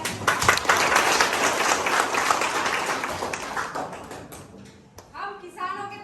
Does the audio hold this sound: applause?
yes